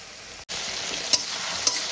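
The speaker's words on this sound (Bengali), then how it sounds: "মশলাটা আমি ভালো করে কষাতে থাকবো।" Spice masala with tomato sizzles steadily in a pan while being stirred, a close, even frying hiss marked by two light utensil scrapes.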